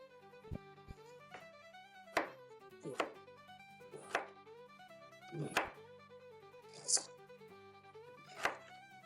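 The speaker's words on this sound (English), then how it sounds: "I can actually slice it thinner than that thing can" Knife slicing fresh ginger on a board, a series of about eight crisp separate chops at an uneven pace, close and clear, over soft background music.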